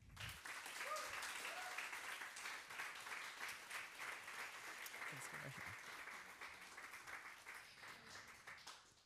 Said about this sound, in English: So please give a big applause to Angel Maxine.